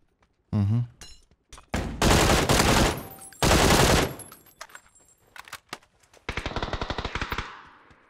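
Gunfire in PUBG: several loud bursts of automatic fire separated by pauses, with scattered single shots and a rapid, fading volley at the end.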